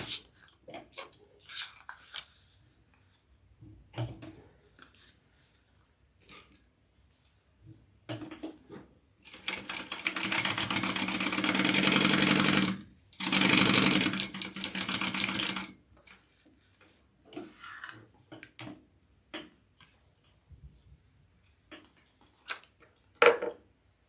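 A sewing machine runs in one sustained burst of rapid stitching, briefly paused mid-run, while basting two matched raw edges of a backpack before trim goes on, with scattered handling clicks and rustles before and after.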